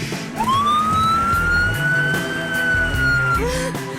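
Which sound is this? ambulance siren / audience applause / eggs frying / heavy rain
ambulance siren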